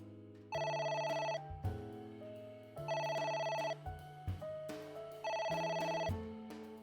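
Telephone ringing in the video game AI: The Somnium Files, an electronic ringtone playing loud repeated melodic bursts with short gaps between them, alone without speech.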